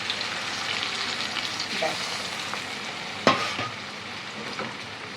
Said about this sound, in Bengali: তেল অনেকক্ষণ গরম হয়ে গেছে, 5টা মাছ একসাথেই দিয়ে দিলাম।